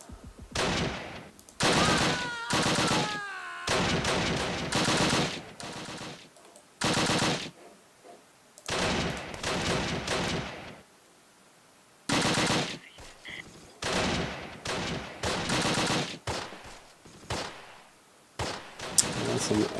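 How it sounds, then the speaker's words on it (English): Repeated bursts of light or medium machine gun fire from tank hatches in the WWII strategy game Close Combat: The Longest Day, loud and rattling in clusters separated by brief pauses, with a voice speaking faintly underneath. "LMG or MMG firing here from the hatches, not spotted."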